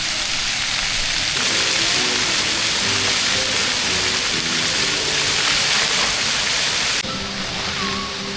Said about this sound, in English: This is apparently what's known as the singing fountain, and the water will kind of dance to whatever music's on.